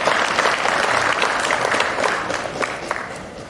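A large audience at a Republic Day celebration gives a sustained round of applause, a dense steady wash of clapping with no break.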